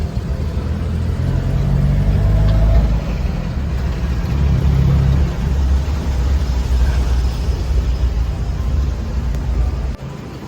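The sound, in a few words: Pattaya local passenger vehicle engine running while riding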